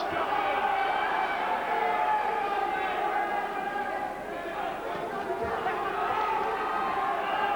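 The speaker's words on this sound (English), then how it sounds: "Listen to the crowd here. They've enjoyed this." A crowd at a professional boxing title fight keeps up a loud continuous roar of chatter and cheering through the final round, with an excited, sustained swell of voices.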